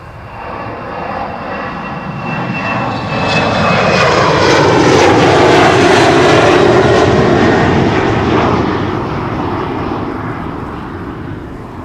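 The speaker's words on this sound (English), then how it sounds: "This is an Embraer 190." KLM Cityhopper Embraer 190 jet airliner passing on the Polderbaan runway at Amsterdam Schiphol, its loud engine roar swelling to a peak midway and then easing, with a falling whine as it goes by.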